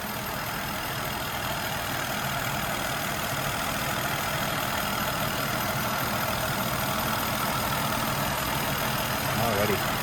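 A 2008 Ford Fusion SE's 3.0L engine idles smoothly and quietly, heard from the open engine compartment as a low, even hum that stays steady throughout with no talking.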